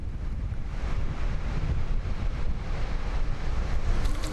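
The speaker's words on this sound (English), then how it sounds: "Windswept beaches face the side open to the North Sea." Steady roaring wind and breaking surf on a windswept North Sea beach of Langeoog, with a constant buffeting rush and no voices.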